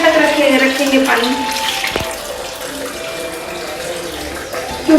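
Water runs from a tap into a metal pot being filled for steam inhalation, a steady close rushing stream with a brief clank partway through.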